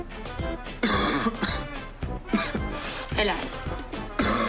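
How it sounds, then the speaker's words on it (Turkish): A man coughs and clears his throat after choking on his own saliva, with repeated harsh, close coughs and rasping throat clears that break up and overlap his speech. "Tükürüm genizime kaçtı."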